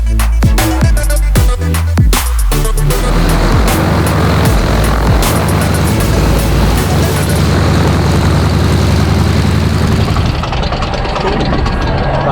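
A propeller aircraft takes off from runway 6 at a fly-in event in Flagler Beach, Florida, its engine roaring loudly and steadily throughout, with the pitch shifting early on before settling into a sustained drone.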